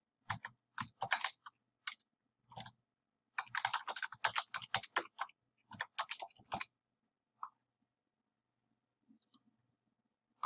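Keys on a computer keyboard click in quick irregular bursts as text is adjusted, crisp and close, with clusters of rapid typing separated by pauses and a few isolated taps toward the end.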